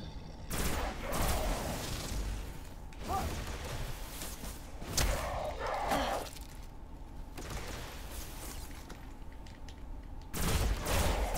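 Rapid gunfire from a quick-shooting weapon in a video game crackles in bursts across the clip, with loud volleys near the start, middle and end over steady game background noise.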